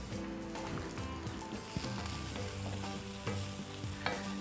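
Leeks sautéing in a pan, a steady close sizzle and frying hiss with scattered stirring scrapes and clicks, no voices over it.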